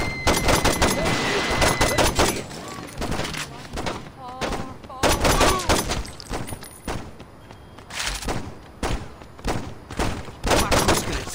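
Gunfire in Saints Row 2, loud repeated bursts of shots and rapid automatic fire in dense clusters with short gaps, close and harsh throughout.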